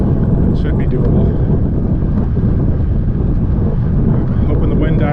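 Strong outdoor wind buffets a microphone during a ride along the Great Lakes Waterfront Trail in Ontario, a loud, steady low rumble of roaring gusts that masks everything else.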